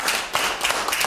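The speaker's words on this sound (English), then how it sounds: "Give him a hand clap this morning." A church congregation gives a quick round of hand claps during a Sunday morning service, several loud close bursts of clapping crowding together in just over a second.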